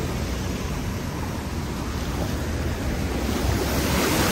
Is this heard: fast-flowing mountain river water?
yes